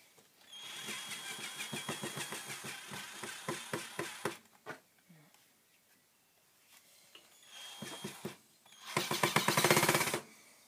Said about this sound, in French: Certes, j'appelle ça une visseuse, mais ça dévisse aussi.